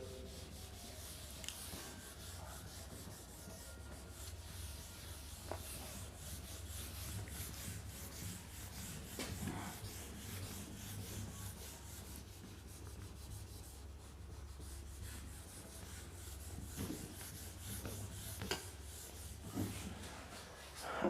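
Steady rubbing of writing off a board, a continuous scrubbing swish with occasional sharper strokes, close and moderately quiet, with no talking.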